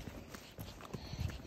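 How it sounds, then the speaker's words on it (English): A pony walks across a farm yard, its hooves giving soft, faint, evenly spaced clip-clop steps. "taking Gwenny for a little walk to show her where she's going to do all her schooling"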